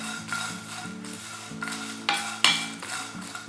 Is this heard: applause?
no